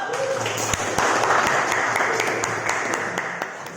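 Students in a classroom give a lively burst of applause, a dense round of many hands clapping together at close range that holds steady for several seconds and then begins to fade.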